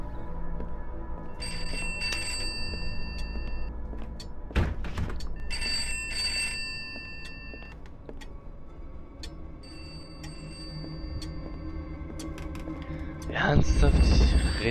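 A telephone rings in the game Pineview Drive, a repeated bell trill in bursts across a steady ambient hum, with a thud midway and a louder noise at the end.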